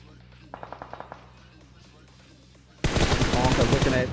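A video game battle with long-range shots: a quick run of six sharp gunshots rings out over a low background hum, then a loud, dense burst of sustained automatic fire takes over, with a voice faintly audible in the mix.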